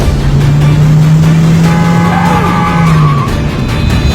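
A car drives fast with tires squealing and skidding in one loud, sustained screech over steady engine roar, with no talking.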